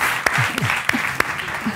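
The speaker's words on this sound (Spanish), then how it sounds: "un aplauso para Joan ahí" Audience applause for Joan in a public-speaking masterclass session, short clapping with a few sharp claps standing out, while a voice talks over it.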